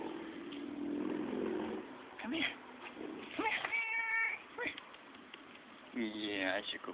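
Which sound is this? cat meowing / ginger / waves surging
cat meowing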